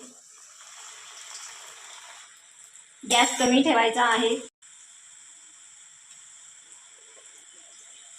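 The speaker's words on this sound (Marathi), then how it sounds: "तुम्हाला गरम तेलात चकली टाकायला हे होत असेल तर या पद्धतीने तुम्ही चकली टाकू शकता झाऱ्यावर घेऊन" Chakli made from roasted chana dal lowered into medium-hot oil on a slotted spoon sets off a loud, bright sizzle lasting about a second and a half, then settles into a steady, quieter frying hiss while someone speaks.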